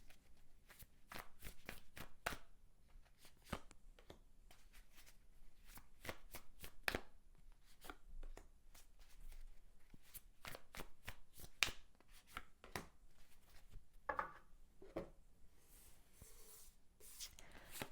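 Tarot cards being shuffled at a reading table, a steady run of crisp riffling and slapping card sounds, close and fairly soft, continuing without pause and no talk over it.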